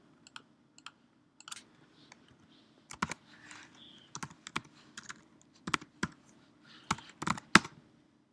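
Computer keyboard typing code, scattered irregular key clicks and short bursts up close, with quiet gaps between them and no talking.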